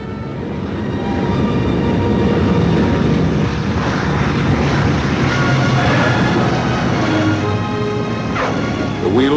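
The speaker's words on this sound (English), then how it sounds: "The wheels of the Memphis Belle come back to the soil of England for the 25th time." The B-17 bomber Memphis Belle lands in wartime England, a loud, steady engine roar and rumble filling the whole stretch without a break.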